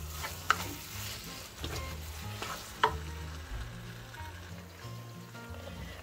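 Rice frying and being stirred in a hot pan, a steady sizzle with a couple of sharp utensil clinks, close, under light background music.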